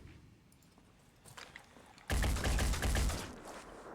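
Gunfire in the Phoenix Point video game: a rapid burst of loud shots erupts after a quieter stretch of faint clicks and background noise.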